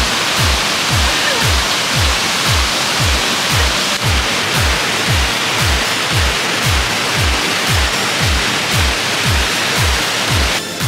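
A waterfall on a levada hike in Madeira roars loudly and steadily, with a broad, unbroken rush of falling water and rhythmic low thumps, probably footsteps, underneath.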